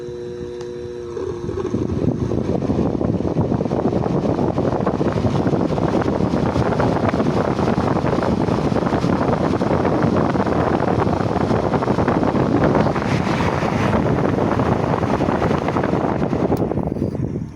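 A Tanzu battery-powered blower runs at full power, a loud, steady rushing roar of air that starts within the first second or two and holds constant to the end, with no talking.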